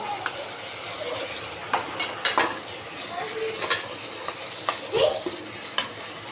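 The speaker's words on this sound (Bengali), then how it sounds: "ভালো করে মশলাটা কষে নিতে হবে" Spice masala being stir-fried in oil for a chicken curry, with sharp spoon scrapes and clinks against the pan over a steady sizzle, close and fairly loud, no talking.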